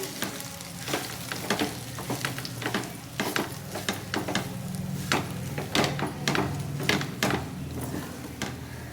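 Okra with fresh coconut being mixed in a hot pan with a ladle: a steady frying sizzle broken by repeated scraping and knocking strokes that continue throughout.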